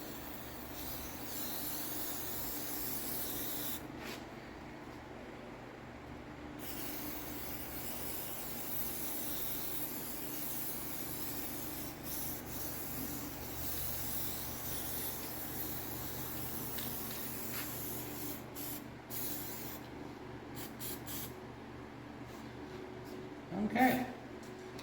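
Aerosol paint hisses steadily onto a carved wooden bear, a long continuous spray with little pause, fairly close and alone, ending with a brief clatter.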